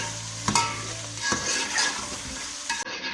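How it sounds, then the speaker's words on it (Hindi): Chicken and onion frying in a pan without spices, a close sizzle broken by several sharp scrapes and knocks of a stirring spoon, with no talking. "फिर इसको हम 10 से 15 मिनट तक मसाले के बगैर हम भूनेंगे।"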